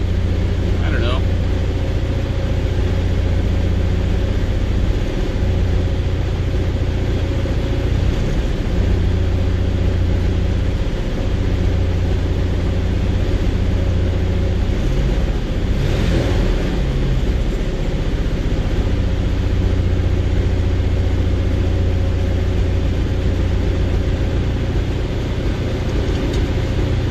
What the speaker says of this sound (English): A little bit of high idle there